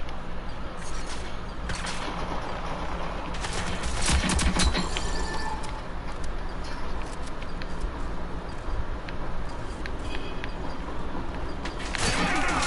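Gunfire in the shooter game Rogue Company, scattered bursts and sharp shots over a busy, steady game background, with no talk.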